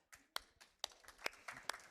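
A handful of sharp hand claps spaced irregularly, about six quick slaps in under two seconds, close but fairly quiet, with no talk over them.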